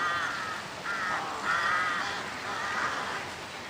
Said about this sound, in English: Carrion crows.